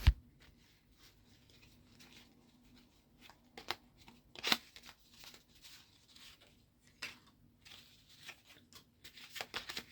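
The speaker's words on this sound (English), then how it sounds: "so I've shuffled these cards" Deck of playing cards for a board game shuffled by hand on a table, quiet with scattered soft riffles, slaps and rustles at an irregular pace.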